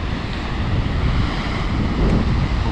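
Stormy sea on the Crimean shore, loud waves surging and crashing in a constant roar, heavy wind buffeting the microphone, no talk.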